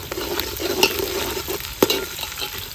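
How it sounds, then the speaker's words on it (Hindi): Green chilies frying in a browned masala of garlic, ginger and onion, a steady close sizzle with spoon stirring scrapes and a couple of sharper clinks against the pot. "अभी इसमें हरी मिर्च ऐड हो रही है"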